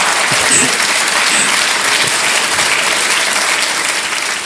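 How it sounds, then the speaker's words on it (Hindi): On a televised quiz show set, the studio audience claps loudly and continuously, a thick steady roar of hands while a contestant's wife joins in the applause. "देख रहे हैं पत्नी जी ताली बजा रही हैं"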